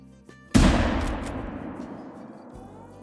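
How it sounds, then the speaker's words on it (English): A single loud 30-30 lever-action rifle shot in the Call of the Wild hunting game, a sharp crack followed by a long rolling echo that fades over about two seconds. "it does look like this is going to be the first thing that we fire at with the 30-30"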